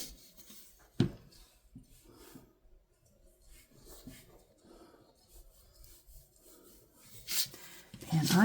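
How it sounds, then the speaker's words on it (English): A glue stick is pressed and rubbed heavily onto paper in a craft journal, giving soft, close scraping strokes in short bursts with quiet pauses between. "I'm going to try to put this glue stick on pretty heavy"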